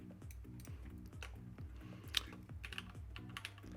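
Steady typing on a computer keyboard, close and quiet, with quick irregular key clicks and thumps layered over a soft rhythmic low pulse.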